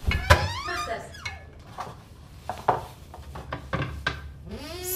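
A refrigerator door opening and closing while eggs are put away in a German radio play: scattered knocks, clinks and a squeak in a kitchen, with people talking over them.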